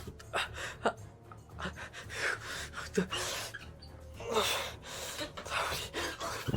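Someone breathes heavily in ragged, uneven gasps and pants, close to the microphone, with bursts of harsh exhalation amid rustling.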